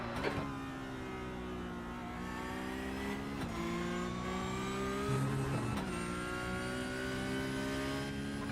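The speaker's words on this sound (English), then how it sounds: "There's a faster class car approaching." Racing car engines at the Nürburgring 24 Hours on the Nordschleife, a steady high drone heard from inside a car while engine pitch climbs through gear changes and a faster class car closes in.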